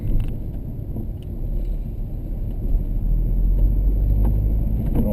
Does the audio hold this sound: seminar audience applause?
no